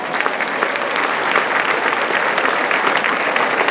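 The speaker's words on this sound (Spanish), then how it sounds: "Un aplauso démenle a los que el Señor llamó." An audience at a charismatic Catholic church gathering claps in steady, dense applause that stays loud and continuous throughout, with no talk over it.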